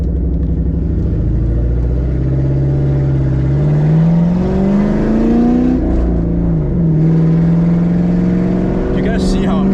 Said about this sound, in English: This car is so loud, dude.